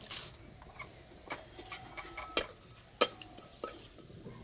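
Whole cumin, dried red chillies and bay leaf tempering in hot oil in a wok bring faint, sparse crackles. Now and then a sharp clink of a spoon against the metal pan cuts through.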